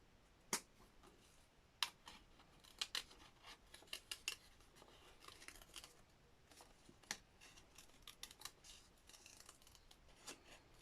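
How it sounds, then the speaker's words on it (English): Hand cutting paper with scissors while working on prints, faint crisp snips and crunching blade strokes coming at irregular intervals against a quiet room, close up, no talking. "Trouble with hand cutting."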